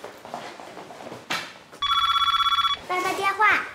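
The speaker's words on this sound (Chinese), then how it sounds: "爸爸电话" A telephone rings in a home with a bright electronic trill lasting about a second, close and loud, between bursts of a child's and adult's speech.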